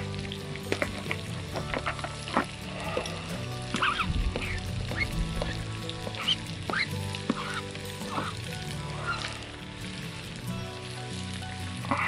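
Meat and onions sizzle in a pot for plov over an outdoor campfire, a steady frying hiss with scattered crackles and stirring clinks, and geese honk now and then in the background.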